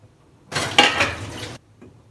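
Dishes and utensils clatter and scrape in a kitchen sink for about a second, close and fairly loud, with quiet before and after.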